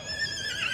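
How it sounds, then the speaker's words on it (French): Racehorses whinny impatiently at the starting line of a race, a short, bright, quavering neigh that rises toward the end, close and fairly loud, with a faint low rumble beneath. "Les chevaux piaffent d'impatience."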